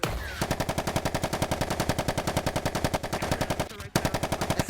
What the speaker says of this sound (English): That's a cool fucking shotgun.